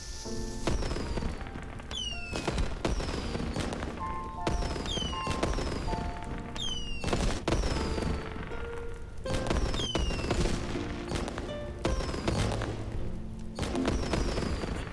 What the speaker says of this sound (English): The fireworks are all lit. Let's all go and enjoy.